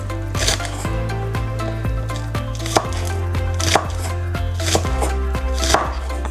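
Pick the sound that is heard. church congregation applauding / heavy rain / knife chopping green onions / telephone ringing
knife chopping green onions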